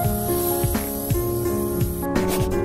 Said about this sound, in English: Spray from one side all the way to the end of other side